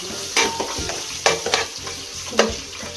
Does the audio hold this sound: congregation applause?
no